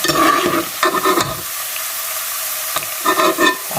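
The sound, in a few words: carrots frying and being stirred in pan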